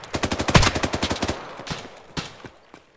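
Gunfire in the Arma military shooter game comes as a rapid burst of loud automatic shots, followed by a few scattered single shots, close and dominant with no talk.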